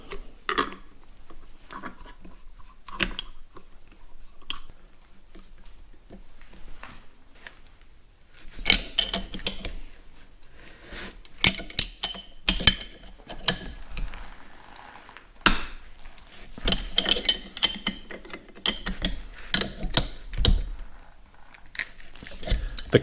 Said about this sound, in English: I will see if the puller setup works first.